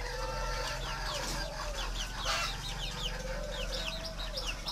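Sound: young farmed birds in their nesting pen

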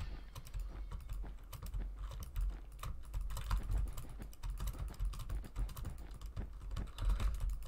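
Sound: computer keyboard typing

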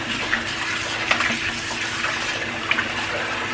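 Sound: water poured to rinse tripe

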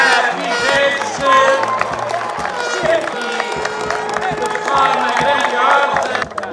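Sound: applause for the team at a football trophy ceremony

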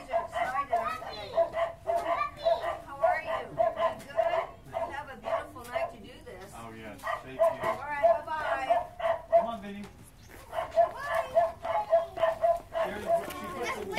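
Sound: excited puppies barking

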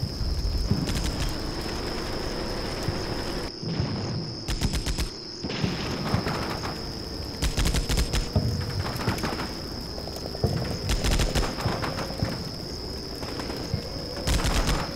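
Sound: tank and troops firing in the video game Combat Mission Shock Force

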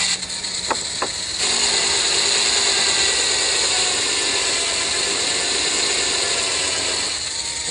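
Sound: sanding wood

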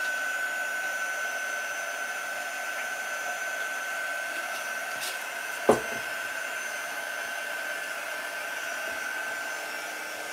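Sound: quick dry heat tool drying Chalk Couture transfer

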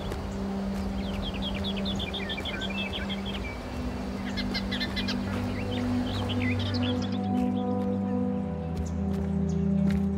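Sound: bird chirping in the video game Aporia: Beyond The Valley

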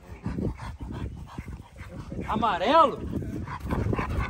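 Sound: dogs barking and yelping

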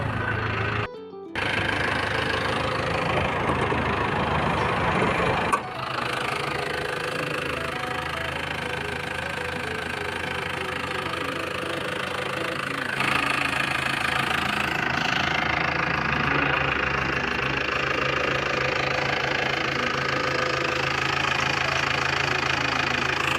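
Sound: Isuzu TFR pickup truck engine idling

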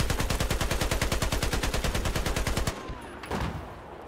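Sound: gunfire in the video game Battlefield 4

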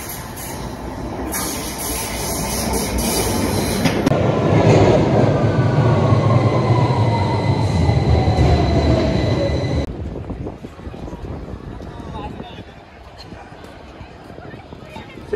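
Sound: London Underground train riding

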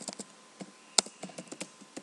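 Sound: typing an SQL command on a computer keyboard

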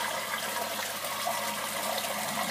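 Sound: water flowing down through aquaponics biofilter pipe

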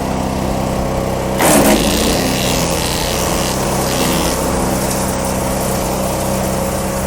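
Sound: HECHT garden shredder running

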